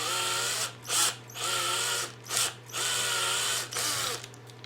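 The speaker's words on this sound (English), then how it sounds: "I've just got to start feeding this drill bit through" A power drill drives a bit through a hole, enlarging it to fit a cartomizer, in four sustained whirring runs separated by brief pauses, loud and close.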